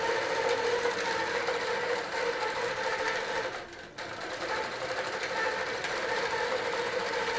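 A computerized quilting machine stitches steadily across a quilt, its fast, even mechanical whir continuous and close, dipping briefly in volume midway before resuming at full pace.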